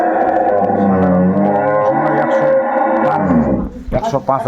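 A cow at a cattle trader's lot lets out a long, loud, drawn-out moo lasting several seconds, followed by brief noisy movement and voices.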